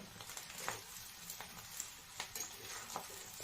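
Rice fries in a pan with a faint, steady sizzle, broken by light scraping and patter from stirring.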